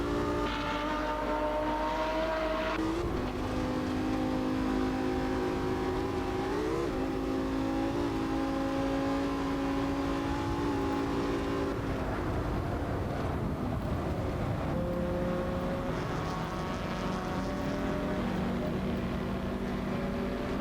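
A car engine in the racing game Assetto Corsa revs and accelerates steadily, with pitch climbing through gears and dropping on shifts, a loud continuous drone heard alone for about twenty seconds.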